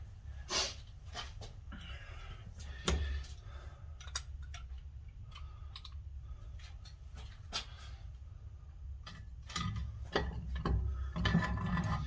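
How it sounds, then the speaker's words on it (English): Metal parts clink and ratchet during installation of a Harley Davidson Sportster gearbox, with scattered sharp ticks and knocks over a low background rumble, close and fairly quiet, with no talking. "the next job is actually just going to be putting the gearbox in"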